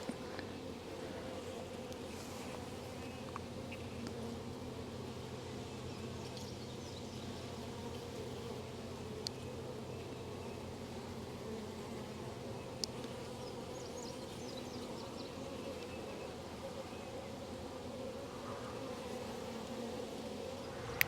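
Honey bees buzz steadily around an open beehive, a dense, even hum of many insects close by with faint background noise.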